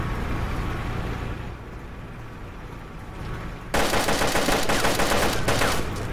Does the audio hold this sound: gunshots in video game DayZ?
yes